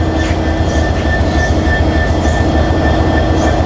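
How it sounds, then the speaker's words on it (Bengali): A 66 series diesel locomotive, number 19, idles at a station with a loud continuous engine rumble and steady tonal whine, with faint metallic squeaks in the background. "66 সিরিজের 19 নম্বর লোকোমোটিভ।"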